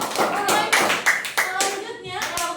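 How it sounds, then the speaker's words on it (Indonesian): A classroom group of children claps in applause, a dense, lively patter of many hands close by that runs steadily and tapers off near the end. "Tepuk tangan untuk mereka."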